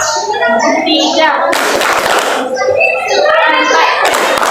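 Children clap their hands in a counting rhythm game, loud sharp bursts of claps in groups between an adult's chanted instructions, with young voices talking and calling out numbers over the clapping.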